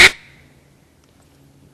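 A person's voice imitates a duck quack with a single short, bright, nasal burst that fades quickly, followed by near silence.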